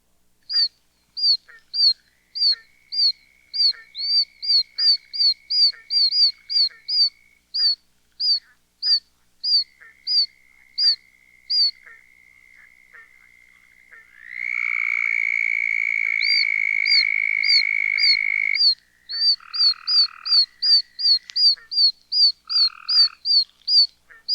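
Dwarf toad bird-like peeps repeat in quick rhythmic series, overlapped by a steady southern toad trill and barking and gray tree frog calls, a dense chorus of clear, close frog and toad voices with no talk.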